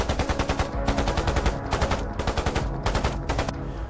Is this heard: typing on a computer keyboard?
no